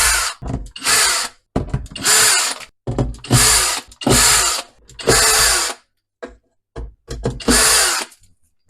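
A power drill whirs in repeated bursts while backing screws out during assembly of an automatic trash bin, each burst roughly half a second to a second long with short pauses between, loud and close with no talking.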